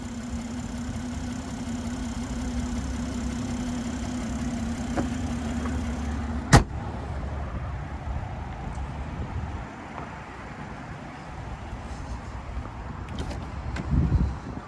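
A BMW 840i M Sport Gran Coupe's 3-liter twin-turbocharged inline-6 idles steadily with a low hum, broken by a single sharp click partway through and a brief swell near the end.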